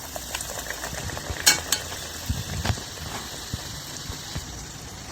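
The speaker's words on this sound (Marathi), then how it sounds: "आता हांव तळून घेता" South Indian banana bun dough, made without maida, fries in hot oil with a soft, steady sizzle and bubbling. A few faint clinks of a utensil cut through now and then.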